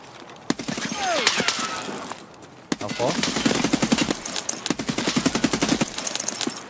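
Rapid automatic gunfire in the video game Escape From Tarkov, loud close bursts of quick rattling shots that grow denser toward the end, with sharp single reports mixed in.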